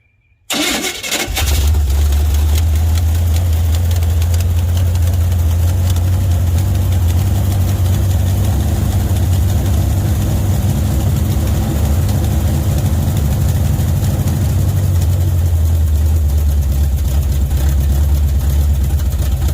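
A 1973 Chevrolet Caprice sedan's 350 V8 cranks briefly, catches loudly within the first two seconds, then settles into a steady, deep idle that rumbles on close and alone for the rest of the clip.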